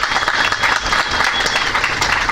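Brief burst of audience applause at a community open house, many hands clapping together in a dense, even patter with a faint murmur of the crowd beneath.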